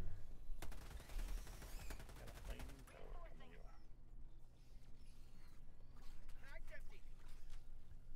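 Rapid gunfire from the video game Helldivers 2 during a Terminid bug fight, dense bursts of automatic shots early on, then scattered shots, creature shrieks and chaotic effects, with players talking over the action.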